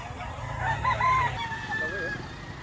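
A rooster crows at a poultry market, a moderately loud, wavering call rising and holding over a low murmur of crowd noise, with a fainter second bird call trailing near the end.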